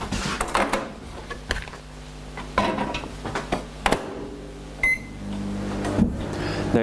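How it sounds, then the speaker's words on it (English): A microwave oven hums steadily in a kitchen, punctuated by clicks, clatter and a short electronic beep near the end. "just warm this up in the microwave just to soften it in preparation for use"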